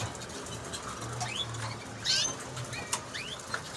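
Brief bursts of wings flapping and fluttering as small birds bathe in a bird bath, with a few chirps nearby, against a steady low background hum.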